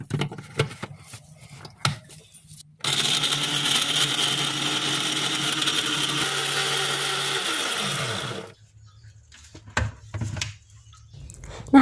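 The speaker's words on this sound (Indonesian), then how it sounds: "semua bumbu ini akan di blender sampai halus" Electric kitchen blender grinding chili spice paste with a little water, a loud steady whir running about six seconds with pitch shifts near the end, then stopping, with faint handling clatter before and after.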